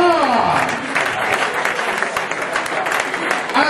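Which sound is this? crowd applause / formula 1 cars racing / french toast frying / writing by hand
crowd applause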